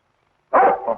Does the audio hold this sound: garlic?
no